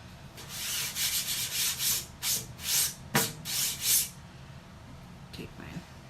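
Cloth wiping excess chalk paste off an enamel sign, a series of close, soft rubbing swipes in bursts, then a brief pause and a couple of lighter wipes near the end.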